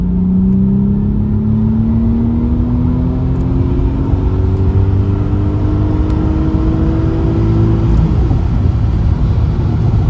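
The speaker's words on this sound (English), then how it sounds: "third gear pull. Wide open throttle." A 2.7T engine in an Audi A4 B6 pulls at wide open throttle in third gear, a loud continuous drone climbing steadily in pitch for about eight seconds before easing off, heard from the cabin with no talk.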